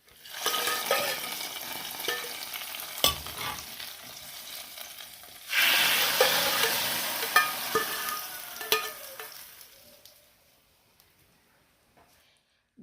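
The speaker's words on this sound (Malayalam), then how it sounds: "ഇനി നമുക്കിത് നമ്മുടെ ചെമ്മീൻ കറിയിലേക്ക് ഒഴിച്ചു കൊടുക്കാം." Hot oil tempering with curry leaves poured into a Kerala prawn curry, giving a sudden loud sizzle that bursts in midway, hisses strongly for a few seconds and then fades to quiet, with scattered clatter of utensils around it.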